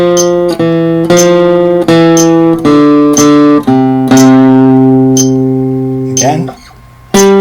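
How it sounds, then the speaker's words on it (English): Regular metronome clicks count in 4 beneath a guitar played loud and close, each sustained note or chord struck on the click and ringing until the next, before a final slide and a short pause. "I'll play that with the metronome so you can kind of hear the timing."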